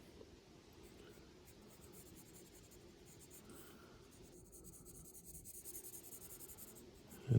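A pencil shades a small cast shadow on paper, producing a soft, faint, continuous scratchy rustle held steadily for several seconds, with no speech over it.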